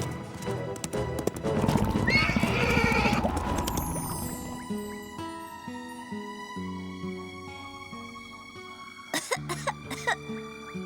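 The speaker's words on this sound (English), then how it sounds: "that cough of yours isn't getting any better" A burst of harsh, rapid coughs breaks out near the end, following a stretch of music and a horse-like whinny.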